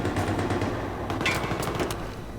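Rapid automatic gunfire from Battlefield 3 rattles on steadily for the whole moment, a dense, loud stream of shots with a brief sharper burst midway.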